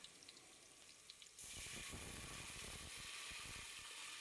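Water poured into frying garlic and cumin: after quiet low crackling, a sudden steady rush of pouring and hissing starts and carries on, close and moderately loud.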